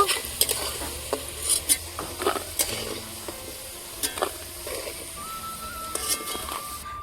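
Potatoes fry in oil in a pan as a utensil stirs them, with a soft steady sizzle under repeated close scraping and clinking taps against the pan, no talking.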